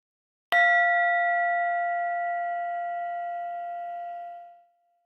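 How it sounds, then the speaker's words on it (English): A meditation bell is struck once, ringing with a clear sustained tone and bright overtones that slowly fade over about four seconds, heard alone in silence. "We can follow the sound of the bell or any sound just as we do the breath"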